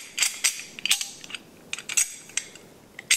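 A bolt cover on an Egyptian FN-49 rifle in 8mm with a sniper-cut receiver is fitted and dropped into place, making a series of small sharp metallic clicks and clacks, close and fairly quiet with no talking.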